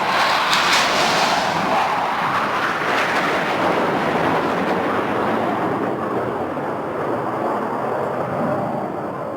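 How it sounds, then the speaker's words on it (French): Canadian military F-18 fighter jets passing overhead at a NASCAR Canadian Tire race, a loud broad roar that fades slowly as they move away. "on a entendu les F-18, bien sûr, qui, de l'armée canadienne, sont passés au-dessus de nous"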